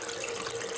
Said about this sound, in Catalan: Vinga, tanca l'aixeta.